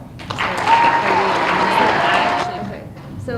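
An audience at a school geography bee claps for two contestants, moderate applause that swells and then fades out, with a faint voice and tones over it.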